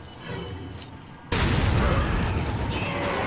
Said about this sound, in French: Hop, grenade.